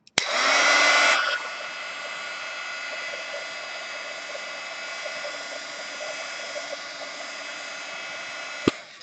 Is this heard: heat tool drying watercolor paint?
yes